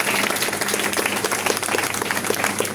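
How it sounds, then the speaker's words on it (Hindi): An audience of newly enrolled advocates at a bar council gathering claps for themselves, a dense, steady burst of many hands lasting throughout with no pause. "बजाओ अपने लिए तालियां"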